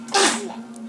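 A single sharp, breathy sneeze, close and fairly loud, over a steady low electrical hum.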